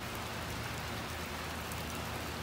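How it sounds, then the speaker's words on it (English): Heavy rain pours steadily and densely in a thunderstorm, a constant close roar of drops with no pauses. "It's raining cats and dogs, thundering and lightning."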